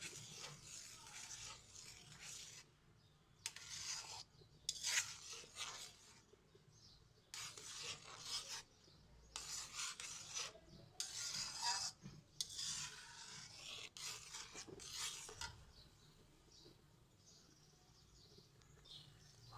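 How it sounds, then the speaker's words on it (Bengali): Tomato sauce being stirred right after a cornflour mixture goes in, heard as a series of close, rhythmic scraping rubs of a spoon against the pot in short bursts with brief quiet gaps between them. "কর্নফ্লাওয়ার দিয়ে সাথে সাথে নেড়ে দিতে হবে"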